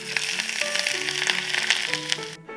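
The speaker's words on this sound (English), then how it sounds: "When it's close to boiling, pour directly into the ginger and green onions." Near-boiling oil poured from a saucepan over ginger and green onions in a heat-resistant bowl makes a loud, dense sizzle and crackle that runs steadily for about two seconds, then cuts off abruptly.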